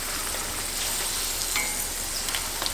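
Egg roll wrappers filled with cheesecake frying in hot oil until golden and crispy, a steady close sizzle with fine crackling pops throughout, no talking.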